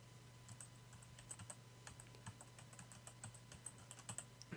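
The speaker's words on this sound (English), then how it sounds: "The only sound in the room was of Daru's fingers on the keys." Fingers type on a computer keyboard in Steins;Gate 0, a quiet room scene: soft, irregular key clicks tap out in quick bursts over a low steady hum, faint and close, with no one speaking.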